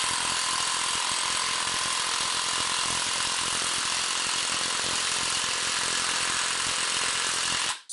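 A ratchet works steadily on the engine mount bolt of a 2003 Honda Civic while the spacer spins. A loud, continuous mechanical grinding rattle runs close and unbroken for the whole stretch, then cuts off at the end.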